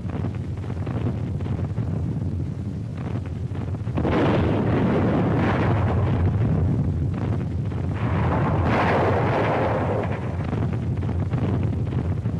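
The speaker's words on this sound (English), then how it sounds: "The naval bombardment continues." A naval bombardment during the D-Day invasion of Normandy rumbles as a continuous, heavy low roar with swelling bursts, like distant big-gun fire blurred by wind-like noise.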